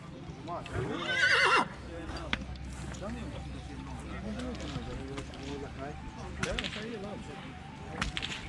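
A horse whinnies in a short, loud burst near the start, followed by hoof clip-clop and faint outdoor background noise, with people talking at moderate distance.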